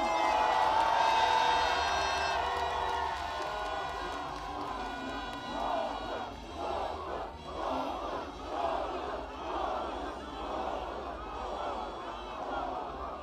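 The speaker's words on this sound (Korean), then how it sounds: "조국 대표께 큰 박수 함성 부탁드립니다" A big crowd at a political rally for Korean politician Cho Kuk roars with loud cheers and shouts, swelling in rhythmic waves of chanting that carry on steadily throughout.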